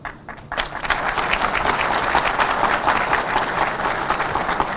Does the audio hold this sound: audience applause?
yes